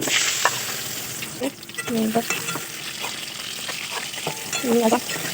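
Whole cumin seeds and a bay leaf sizzle in hot oil in a home kitchen pan, a steady close frying hiss broken by a few scraping stirs, with no talk over it.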